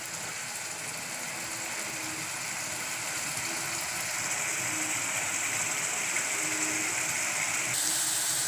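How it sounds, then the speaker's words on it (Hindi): A bowl of water pours steadily into a curd and pointed gourd (parwal) curry, giving a continuous close gushing splash that runs for several seconds with no voices. "इसके साथ 2 मिनट अच्छी तरह भून लेने के बाद इसमें मैं 1 कटोरी पानी ऐड कर रही हूँ।"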